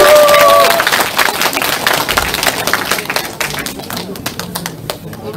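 A crowd at a political party book launch applauds as a guest is introduced to give congratulatory remarks, dense clapping that starts loud and gradually thins into scattered claps, with a brief tone and murmuring voices early on.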